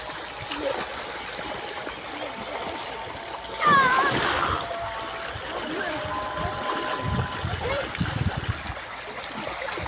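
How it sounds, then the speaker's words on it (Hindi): Small children bathe and splash in a village canal of deep water on a hot day, with one loud, close splash standing out amid steady splashing and flowing water and children's voices in the background. "जो छोटे छोटे छोटे बच्चे नहा रहे हैं हमारे गांव की जो कि नहर है ना"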